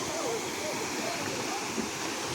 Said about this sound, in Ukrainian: Водоспад Кам'янка.